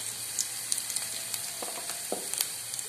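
Garlic, ginger and dried coconut frying in a half tablespoon of oil in a kadai, a soft, steady sizzle with faint crackles and a few light stirring clicks, close and quiet with no talk.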